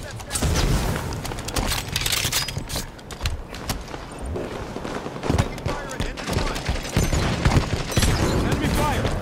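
Rapid bursts of gunfire and booming impacts in a Halo 5 Slayer match on the Rig map, dense and continuous throughout with game voice callouts mixed in.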